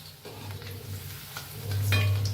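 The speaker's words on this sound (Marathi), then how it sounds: "चांगले असे तळून घ्या आणि गॅस कमी करा म्हणजे आतपासून मस्त असं तळलं जाते" Pieces of food fry in hot oil on a gas stove, giving a steady, moderately loud sizzle over a low hum. The sizzle swells louder toward the end, with no talking.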